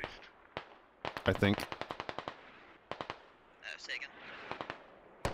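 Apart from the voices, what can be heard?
smoke artillery deployment in the video game SquadOps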